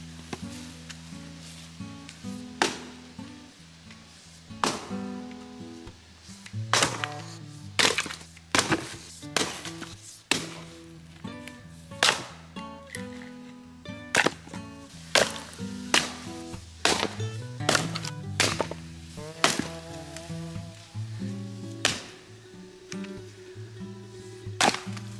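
Repeated sharp wooden thwacks at an irregular pace as a Fiskars axe strikes and splits firewood, with cracking and splintering between blows.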